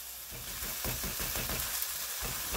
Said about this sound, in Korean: 대파랑 양파 먼저 볶아줄게요.